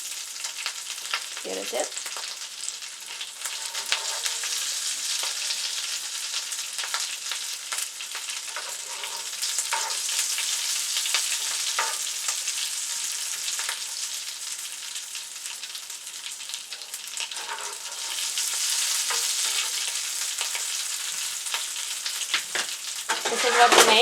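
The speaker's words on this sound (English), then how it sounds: "This is mashed potato dipped in eggs. We fried it" Mashed potato balls coated in egg fry in hot oil with a steady, fairly faint crackling sizzle that persists throughout, with occasional stirring clicks and a brief spoken word.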